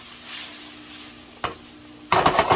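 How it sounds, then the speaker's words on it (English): Roasted red peppers dropped into a hot pan, a steady sizzle of frying with a stirring scrape partway through and a louder burst of crackling sizzle at the end, close up. "we are going to add our roasted red peppers"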